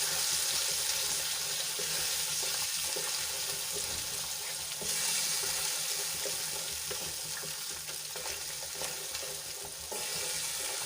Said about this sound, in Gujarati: થોડી વાર માટે આપણે આ ગ્રેવીને સાંતળી લઈશું